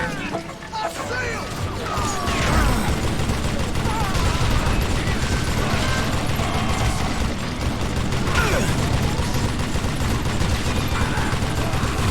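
Dense, continuous gunfire from the Western shooter game Call of Juarez: Gunslinger, rapid shots and crashes layered loudly over game effects for the whole stretch.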